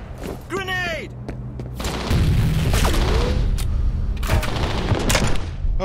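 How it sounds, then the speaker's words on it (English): A grenade explodes in F.E.A.R., a heavy boom that swells into a sustained rumble with crackling debris and scattered gunfire-like bursts, following a brief spoken call. "Grenade."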